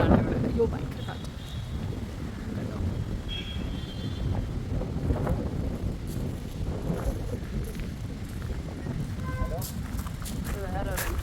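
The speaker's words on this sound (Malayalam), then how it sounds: "അയ്യോ ഭയങ്കര കാറ്റ്" Strong gusty wind buffets the microphone outside St. Stephen's Orthodox Cathedral Church in Pathanamthitta, a continuous low rumbling roar with faint tinkling of small bells and a voice speaking over it.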